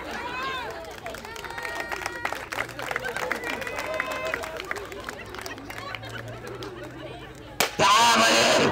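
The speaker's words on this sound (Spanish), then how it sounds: "demuéstramelo con un aplauso" At a Mexican clown comedy show, a crowd murmurs and a performer talks before the audience bursts into loud, dense applause during the final second or so.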